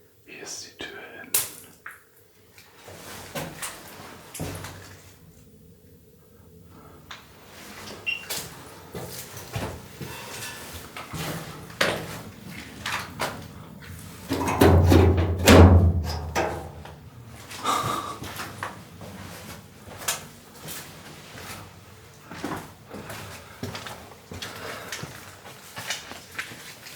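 Heavy metal blast door in a nuclear bunker being shifted, with a loud low scraping clank near the middle amid breathing, rustling and scattered voices.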